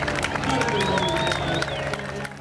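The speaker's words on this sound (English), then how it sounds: "Let's have an applause." A crowd applauds and cheers for finishing crews at the 1993 London–Sydney Marathon car rally, a steady wash of clapping and shouts with a whistle-like tone rising above it.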